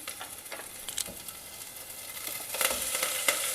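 Chopped garlic, chopped ginger and curry leaves fry in ghee, giving a steady close sizzle with brief crackling pops and stirring scrapes that swell louder toward the end.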